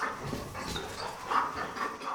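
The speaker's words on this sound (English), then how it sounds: "Hey, doggy, if you make a mess, you'll go outside." A dog pants and whimpers close by in a quiet house, soft rhythmic breaths broken by thin, high whines that rise and fade several times.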